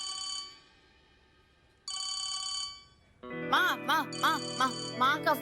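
A phone rings in a domestic setting with two bursts of bright electronic ringtone separated by a pause, then a voice and other people talk over a continuing ringtone.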